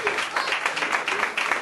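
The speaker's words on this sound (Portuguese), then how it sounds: "E aplausos para o Senhor" Congregation applauding during a Pentecostal church service, a dense steady patter of many hands that carries on throughout without pause.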